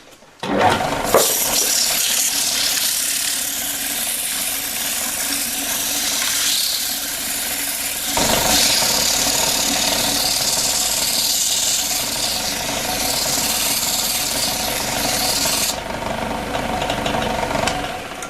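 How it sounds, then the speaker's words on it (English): A small wooden box is sanded on a running wood lathe, with a continuous hissing rasp over the motor's hum, close and fairly steady with slight swells in intensity. "Right, now I've got to sand it up."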